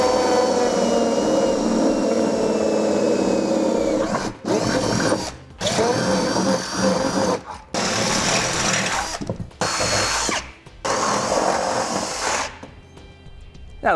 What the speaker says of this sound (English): Now that we have our final size drilled out